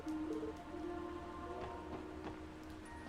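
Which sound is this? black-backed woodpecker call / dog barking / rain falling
rain falling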